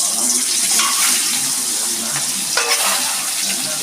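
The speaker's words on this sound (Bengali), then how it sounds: "আমি ডিমটা একটু ভেজে নিচ্ছি।" An egg, seasoned with salt and turmeric, frying in hot oil in a pan, with a loud, steady sizzle and crackle and a brief clatter partway through, with no talking.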